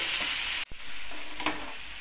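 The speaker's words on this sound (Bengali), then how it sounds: "এইবার ভালো করে কষতে হবে আলুটার সঙ্গে।" Potatoes stir-fried in a pan with tomato and green chilli paste, a loud close sizzle broken by a brief gap and a scrape of the spatula before the frying hiss resumes.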